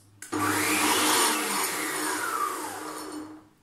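Milux MFM-3615 stand mixer with whisk attachment on pulse, a sudden loud motor surge that starts abruptly, holds for about three seconds with a shifting whine, then fades as it spins down.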